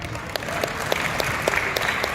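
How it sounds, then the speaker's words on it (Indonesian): An audience at an event applauds for APLI, the association, with steady, dense clapping filling the whole stretch at moderate volume. "Tepuk tangan untuk APRI."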